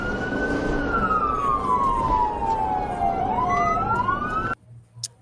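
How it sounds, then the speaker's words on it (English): A police car siren wails loudly and close, its pitch sweeping slowly down and then back up in a continuous tone before cutting off abruptly near the end. "All right, we've initiated our siren."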